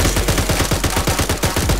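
Rapid automatic gunfire from a military shooter video game, a steady string of about fourteen evenly spaced shots crackling loudly and close, with no voices over it.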